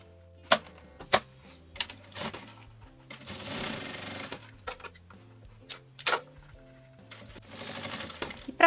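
A sewing machine stitches bias binding onto a school folder, with scattered clicks and handling sounds and two short whirring runs of stitching close by.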